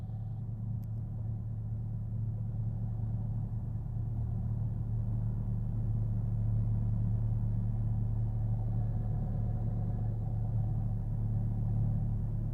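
A Cessna Skyhawk's piston engine holds a steady, loud run-up drone, a deep constant rumble with no break or change in pitch for the whole stretch.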